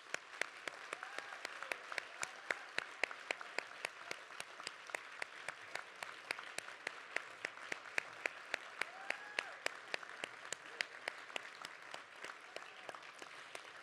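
An audience at a county community meeting applauds with steady, sustained clapping that carries on throughout, moderately distant and without talk.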